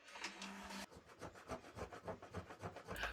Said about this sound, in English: My scraper to the rescue